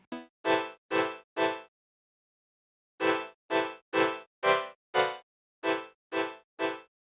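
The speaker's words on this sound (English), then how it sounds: "Again, these are synth stabs" Short synth stabs for a 2000s-style pop R&B chorus, panned left and right, hit in rhythmic groups of three and four evenly spaced chords with a pause after the first group, clean and alone.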